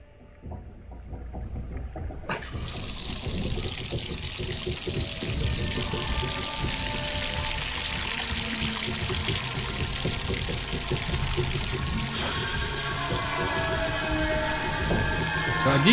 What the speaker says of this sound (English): God, you should have water again, London.